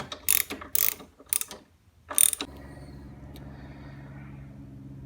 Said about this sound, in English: I added an extension to my socket for my Torx 40 just to keep my handle away from the gas tank